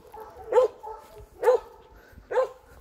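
A boar-hunting dog gives three loud, close barks, evenly spaced about a second apart, with quiet pauses between.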